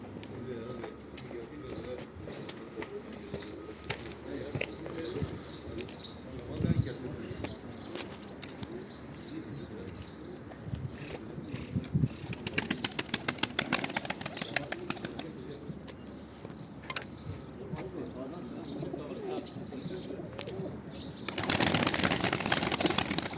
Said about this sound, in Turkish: İstersen Şeyh Muhsen git kardeşim oradaki kuşlarımızı ele bir çek.